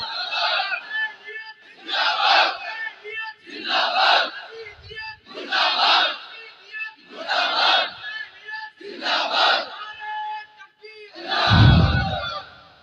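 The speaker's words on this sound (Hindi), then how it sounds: "अरे बुलंद आवाज से बोलो मुर्दाबाद।" A crowd at a religious gathering shouts a slogan in unison, seven loud chanted bursts at a regular rhythm with short gaps of near silence between them.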